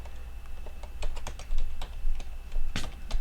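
Scattered keystrokes on a computer keyboard while a file is named in a code editor; close, irregular clicks over a low steady hum, with no speech.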